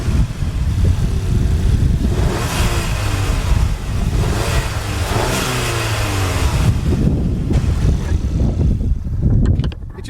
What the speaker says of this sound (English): So if I just pop the hood here, just free revving.